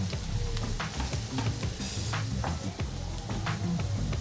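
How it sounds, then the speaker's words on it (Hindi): Onions fry in oil over a high flame while mutton pahadi is being cooked, giving a steady, dense sizzle with small crackles and occasional stirring scrapes, loud and close throughout with no talk. "और प्याज को हम लोग थोड़ी सी तेज आंच पे अच्छे से इसको पका लेंगे, तब तक जब तक ये बिल्कुल गोल्डन ब्राउन कलर का नहीं हो जाता है।"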